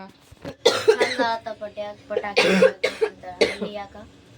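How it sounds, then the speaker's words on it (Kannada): Several harsh, close coughs in short bursts, mixed with a person talking between them. "ನನ್ನ ಬರೇ ಒಳ ಕೆಮ್ಮು ಹೊಂಟದ ನೋಡ್ರಿ"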